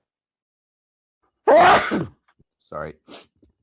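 A person with a cold at a public committee hearing lets out a single loud sneeze, followed by a brief spoken apology and soft breathy sounds.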